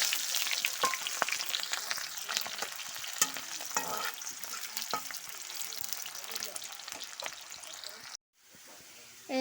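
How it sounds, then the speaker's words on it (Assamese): Chopped onions and garlic frying in hot oil, a dense, continuous close sizzle with frequent stirring scrapes, briefly cutting out near the end before resuming, with no one talking. "এয়া চাওক পিয়াজখিনি ভাজি হৈ গ'ল ভালকৈ"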